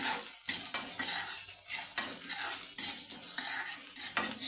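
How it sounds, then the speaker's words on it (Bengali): Garlic, ginger, cumin and mustard seeds fry in a pan for a sour dal, with a spoon scraping and stirring in repeated rhythmic strokes over a close, crackling sizzle, no voices. "আর ফোড়নের জন্য দিলাম জিরে আর সরষে। আমি লাল করে নেবো এইগুলোকে সব।"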